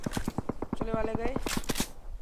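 Rapid automatic gunfire from the mobile battle-royale game PUBG Mobile rattles in quick regular bursts beneath a person talking over it.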